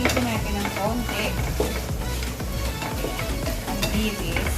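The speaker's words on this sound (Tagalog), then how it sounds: "Prito natin ng konti." Steady, dense sizzling of ingredients for ginataang langka frying in a pan, with occasional stirring scrapes and clinks, close and continuous.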